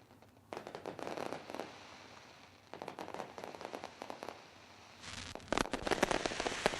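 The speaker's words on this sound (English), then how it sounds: "Lomo fireworks lighting up the sky" Fireworks burst and crackle over a speedway after a night of racing, with dense sharp popping in three bursts that swell louder toward the end, heard with no talking.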